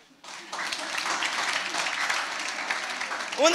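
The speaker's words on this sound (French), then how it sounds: "On applaudit." Church congregation applauding during a Sunday service, a steady dense round of clapping that starts abruptly and holds at an even level throughout.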